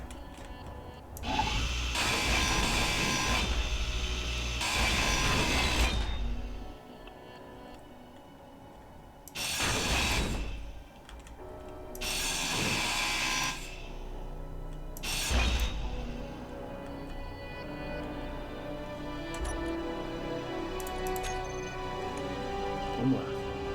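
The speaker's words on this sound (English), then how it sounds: "A grinder." A grinder tool in the Space Engineers video game runs in several loud, broadband bursts of a few seconds each, separated by quieter gaps, with a faint ticking background throughout.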